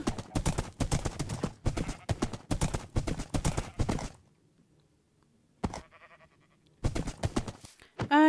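Horses' hooves clip-clop in Minecraft Bedrock Edition: quick bursts of clattering steps for about four seconds, a pause with faint soft sounds, then another short burst and more clopping near the end.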